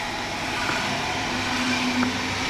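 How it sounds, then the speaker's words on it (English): A train rumbles past on a forest hike near Neustadt an der Weinstraße in the Palatinate Forest, a steady dense roar with a faint whining tone running through it. "He says that there's a train coming."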